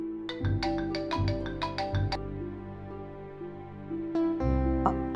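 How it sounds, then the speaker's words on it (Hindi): A phone ringing with an incoming call, a tuneful ringtone of repeated bright melodic notes in a steady rhythm, clear and close with no talk over it. "फोन आ गया।"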